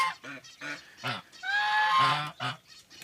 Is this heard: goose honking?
yes